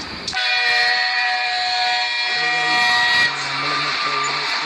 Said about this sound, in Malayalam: ട്രെയിൻ വരുമ്പോൾ ഒരു ഒച്ച കേൾക്കും.